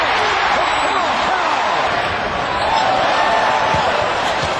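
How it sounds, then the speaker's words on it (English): Basketball arena crowd roaring steadily through a Sacramento Kings game, a dense continuous wash of cheering voices that swells slightly near the end. "Crowd reaction to every pass."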